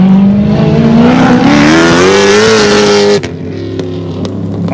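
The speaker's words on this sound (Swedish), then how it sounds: "Vilken sång i motorn, va? Vilket härligt ljud!" A race car engine roars loud and close with a raw, open exhaust, pitch rising as it revs, then dropping sharply as the throttle lifts.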